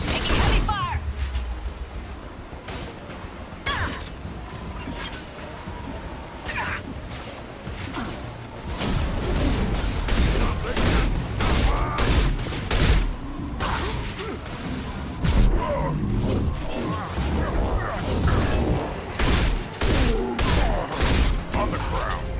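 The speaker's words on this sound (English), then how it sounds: "Taking heavy fire!" Heavy gunfire and explosions in Mass Effect 2, dense bursts of shots, crashes and whooshes running continuously and loudly, with voices talking over the combat.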